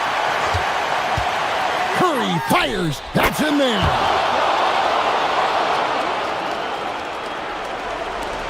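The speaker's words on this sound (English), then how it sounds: "you gotta love hearing a crowd get this fired up" A basketball video game crowd roars steadily throughout, loud and sustained, under an excited commentator calling the play.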